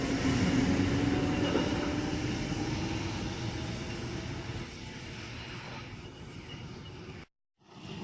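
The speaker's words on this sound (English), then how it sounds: "departing on platform number 2 we have K66 for a Campbelltown service" Passenger train K66 on a Campbelltown service pulls away from platform 2 at Casula station, a loud, steady rumble that slowly fades before a brief dropout near the end.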